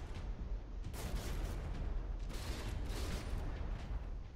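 Warship guns fire a volley in the From the Depths naval combat game, a dense, continuous roll of booming shots and blasts with heavier bursts partway through, loud and unbroken throughout.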